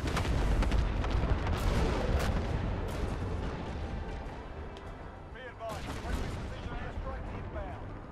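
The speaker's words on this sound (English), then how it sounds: "Grenade." Grenade blast in Call of Duty Modern Warfare Ground War on the Tavorsk District map, a loud broadband boom inside a constant wash of distant gunfire and artillery, with a second burst later and voices talking over the battle.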